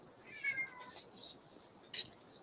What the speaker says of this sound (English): She's not a picker-upper kind of cat.